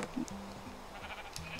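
Sheep bleating in the Minecraft video game, a series of short nasal bleats repeating across the moment with a faint higher chime now and then, fairly close and with no talk over them.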